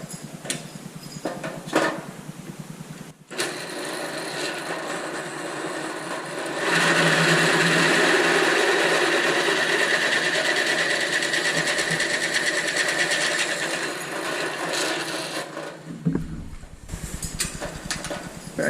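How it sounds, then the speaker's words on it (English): A drill bores a half-inch hole through metal for a shop press bender back gauge, a steady loud whining grind that starts after a short pause and runs continuously for about nine seconds before stopping. "And we'll drill our 1/2 inch. That's our final diameter."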